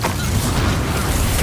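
A Bombarda spell explodes in the Hogwarts Legacy video game, a loud, dense burst of roaring, rumbling noise that fills the whole moment without letting up.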